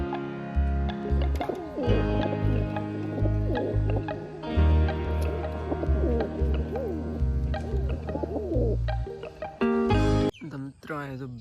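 Pigeons coo in soft, repeated low calls nearby while a person talks over them.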